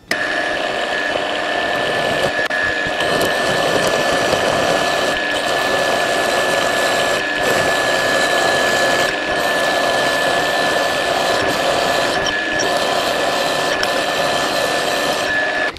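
A Bernardo P 600 G lathe drills into metal, a loud continuous machining whine with a steady tonal hum, broken by brief regular dips as the cut proceeds.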